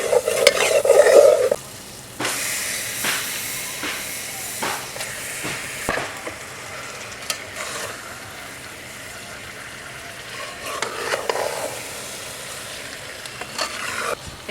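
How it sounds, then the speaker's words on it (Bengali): Washed beef stirred into a hot, well-fried spice paste for beef bhuna: a loud wet sizzle at first, then steady frying hiss with repeated scraping and stirring strokes, no talk. "এখন আমি ধুয়ে রাখা মাংসগুলো দিয়ে দেবো।"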